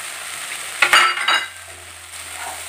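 Potatoes stirred into soybean masala frying in a pan: a steady sizzle with a brief burst of scraping and clattering as the spoon turns the mixture, close and fairly loud, with no talking.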